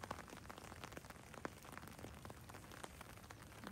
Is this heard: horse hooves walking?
no